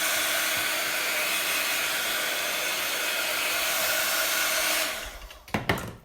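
A hair dryer blows steadily and loudly over gritty vintage paste on a canvas, then switches off, leaving a few close handling knocks.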